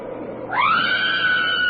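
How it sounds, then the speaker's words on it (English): In an old-time radio drama, a woman lets out a single loud, sustained scream that rises sharply in pitch and then holds steady, close to the microphone. "Donna screamed"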